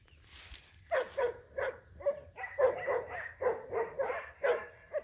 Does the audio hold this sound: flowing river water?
no